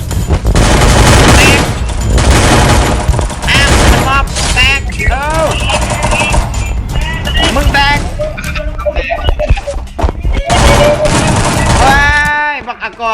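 Dense gunfire in the video game Free Fire, with rapid automatic bursts and single shots overlapping loudly and continuously, broken by short pauses, while players shout excitedly over it.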